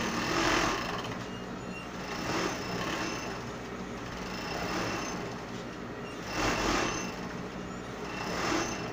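An overlock serger stitching fabric for a child's unicorn dress, a steady mechanical whir that swells in a few short bursts as the machine runs, close and fairly loud with no talking.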